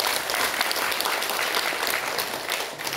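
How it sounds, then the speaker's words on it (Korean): Steady, dense applause from a ceremony audience at a Korean commemorative event, filling the whole stretch evenly without speech on top. "여러분 좀 힘찬 박수 부탁드립니다"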